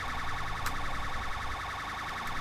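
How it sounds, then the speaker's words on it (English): Police car siren in GTA 5 wails in a steady repeating electronic warble, moderately loud and continuous, with a couple of brief sharp clicks. "I'm going to turn my sirens on and drive up this motorway"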